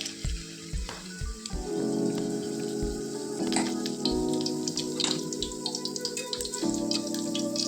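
White Chettinad-style paniyaram batter is poured into a hot paniyaram pan, producing close, soft sizzles, wet drips and light clinks in uneven bursts, with no talking.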